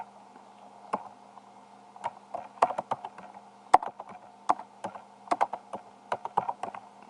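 Keys clacking on a computer keyboard in irregular bursts of sharp, close clicks, with short pauses between flurries over a faint steady hum.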